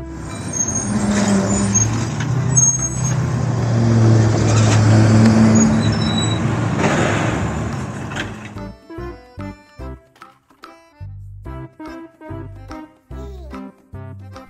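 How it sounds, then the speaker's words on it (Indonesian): A garbage truck rumbles loudly up close with a broad engine roar and a hiss of air brakes, then gives way to a series of short toy-like tones and beats. "Mobil truk sampah."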